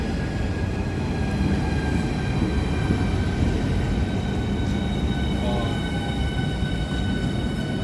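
A Class 395 electric train runs on the Medway Valley Line, its steady rumble and whine filling the cabin continuously and loudly, with faint tones above.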